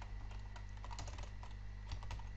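Quick, uneven keystrokes on a computer keyboard while coding a Java plugin, close and fairly quiet over a steady low hum, with no voices.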